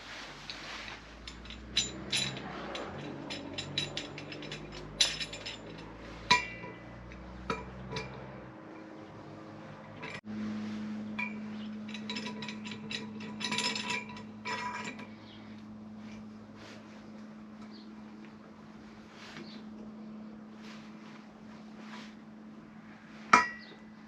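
Metal parts clink and tap intermittently as a valve is worked out of a cylinder head, a scattering of sharp close ticks and knocks over a low steady hum, with one louder clank near the end.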